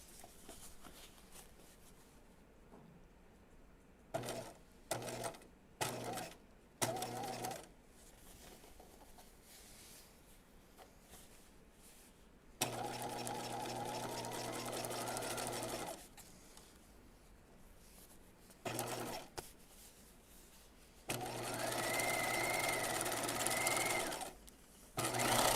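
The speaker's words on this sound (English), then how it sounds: "Okay, so now I've done one line of top stitching." Sewing machine top stitching a jeans pocket, starting in short stop-and-go bursts of a few stitches, then running in longer steady whirring stretches, close and fairly quiet.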